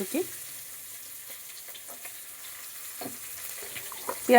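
Soft, steady sizzle of chopped onions frying in oil, with intermittent stirring clinks and scrapes nearby.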